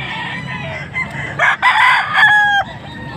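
A gamecock stag rooster in Angeles, Pampanga crows loudly and close by, a strained, drawn-out call rising and holding before cutting off, with faint clucks before it.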